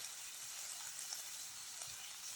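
Onion cooks in a frying pan with a faint, steady sizzle that stays low and even throughout, with no voices.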